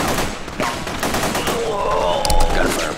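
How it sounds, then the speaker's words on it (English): Rapid bursts of machine-gun fire in The Punisher video game on an island level, dense rattling volleys with sharp cracks and a few game sound effects. "Gunfire probably alerted the whole island by now."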